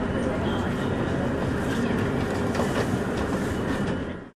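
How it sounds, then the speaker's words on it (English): A 500 series Shinkansen high-speed train of JR West runs past in a loud, continuous rushing roar with rail rumble and faint clatter, then cuts off suddenly at the end. "The 500 series is a type of high-speed Shinkansen train operated by West Japan Railway Company"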